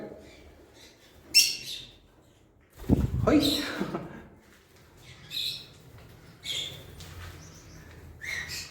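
Pet cockatiels and lovebirds squawk and chirp nearby in short, sharp bursts, with a person talking over and between the calls.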